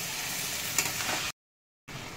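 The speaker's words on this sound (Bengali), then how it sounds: "এবার আমি দইটা দিয়ে খুব ভালো করে কষিয়ে নেব" Chicken frying in a pan with yogurt while being stirred, a soft steady sizzle with a light scrape of the spoon, cut by a short stretch of silence before the sizzling resumes.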